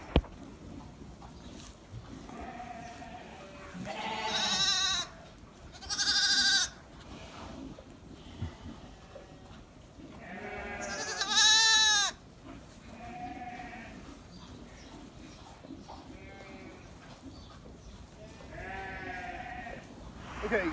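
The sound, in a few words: sheep bleating, Shetland ewe and Texel lambs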